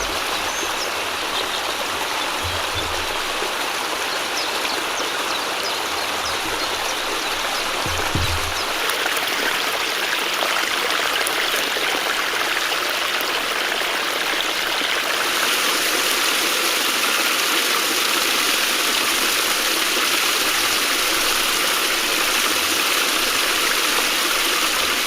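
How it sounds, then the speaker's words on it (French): Spring snowmelt streams rush through a Norwegian forest in a steady, dense, close-up flow of water that carries on unbroken with no voices. "le printemps ici, ce sont des myriades de ruisseaux qui sont nés de la fonte massive des neiges"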